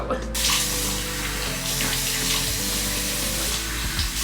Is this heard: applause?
no